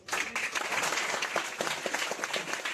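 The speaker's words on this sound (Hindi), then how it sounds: "तो एक बार जोरदार ताली जो है ना" A crowd at a school farewell applauds steadily throughout, dense clapping from many hands at moderate volume with no pauses.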